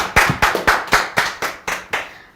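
Several people clap together in unison for the Tamara family, about eight sharp, evenly spaced claps in a steady rhythm, loud and near, with each clap ringing briefly before the next.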